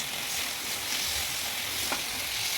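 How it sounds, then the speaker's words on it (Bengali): Chicken with raw tomato fries in a hot pan while being stirred, a close, steady loud sizzle with faint scraping of the utensil throughout. "এটাকে একটু ভালো করে নেড়ে দেবো"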